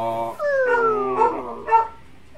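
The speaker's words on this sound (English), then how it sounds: "It was the dog." A dog howls and whimpers close by in a long wavering, sliding cry that rises and falls, ending in a short whine, with a faint voice underneath.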